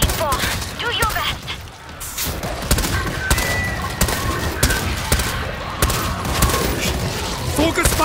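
Sustained gunfire in the co-op zombie shooter World War Z, in Tokyo, with repeated loud shots cracking over a dense battle din and game voices calling out.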